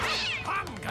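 Cartoon cat meowing in a short, loud, wavering cry that bends up and down, alone and close without talk, from a Smurfs animated episode.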